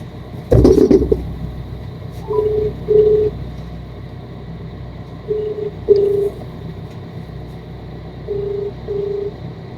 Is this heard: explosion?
no